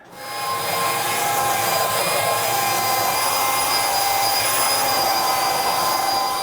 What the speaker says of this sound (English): I think I'm done with the belt sander for now